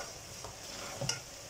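A spoon stirs a mixed vegetable curry of potato, peas and moong dal dumplings in a pot, with a quiet sizzle and a brief scraping clink near the end.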